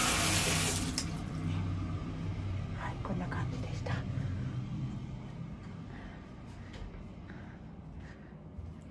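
A large hotel-room shower head runs with strong water pressure, a steady hiss of spraying water that starts louder and settles into a continuous rush, with a person speaking faintly over it.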